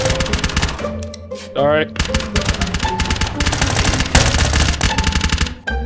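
Rapid automatic gunfire in a first-person shooter game, bursts crackling back to back through most of the moment, loud and close, with players talking over the shooting.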